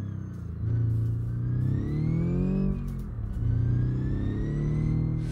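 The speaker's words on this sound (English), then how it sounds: "And I've already over revved the engine." A car engine over-revving in the BeamNG driving game, the pitch climbing and dropping in sustained revving sweeps, loud and close with no talk over it.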